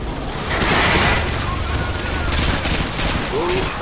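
Loud, sustained gunfire fills a battle in the video game Call of Duty: Modern Warfare 2, with dense overlapping bursts and booming reports that carry on without pause.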